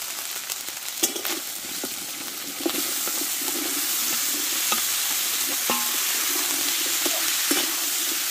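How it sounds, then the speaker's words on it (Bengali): Grated ginger fries in oil in a pan for a pumpkin and fish-head dish, with a continuous loud sizzle and occasional stirring scrapes and clinks, the frying growing louder partway through as sugar goes in. "আদাটা একটু ভালো করে ভেজে নিয়ে আমি এতে চিনিগুলো দিয়ে দেবো ঢেলে"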